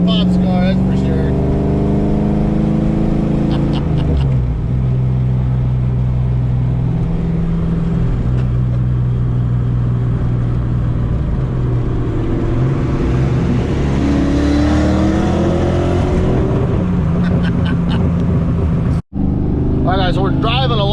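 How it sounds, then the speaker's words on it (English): A Ford Thunderbird drives along steadily with a loud, continuous engine rumble and rising and falling revs, and a person talks over it throughout. "Last little drive in Pop's car before she goes to paint."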